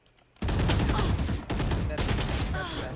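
Rapid gunfire from the shooter game Valorant rattles out in dense, loud bursts, breaking off briefly mid-stream before resuming, with a clipped voice faintly beneath.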